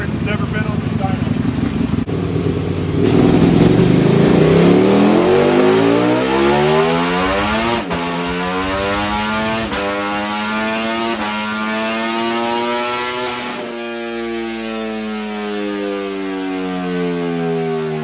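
A Ducati Panigale V4S, an 1100 on a race dyno, revs hard through rising gears with a loud, climbing engine howl, then holds a high steady wail and drops back.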